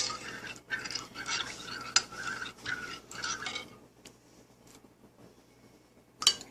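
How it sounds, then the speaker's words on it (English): A utensil stirs thick homemade yogurt in a bowl, giving rhythmic scraping strokes that stop partway, followed by near-quiet and one sharp clink at the end. "So let me finish stirring this up."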